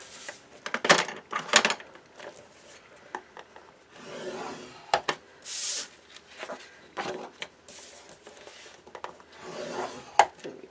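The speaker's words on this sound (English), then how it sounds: "And then I score at a 1/2 inch on" Paper is scored with a scoring tool at half an inch along the short side, giving a series of close, short rubbing and scraping strokes with small clicks and pauses between them.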